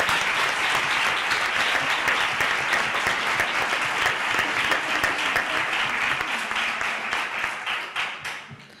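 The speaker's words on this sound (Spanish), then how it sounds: "Yo creo que le podemos dar un aplauso, ¿no?" Audience applause at a public forum on the future of the Bay of Cádiz, dense sustained clapping from a large crowd that tapers off and fades in the final seconds.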